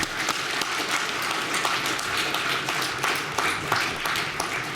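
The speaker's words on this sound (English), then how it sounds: "actually another round of applause" Dense, sustained applause from a conference audience after an aviation pilot-recruiting presentation fills the room steadily at a loud level, with many overlapping claps and no break.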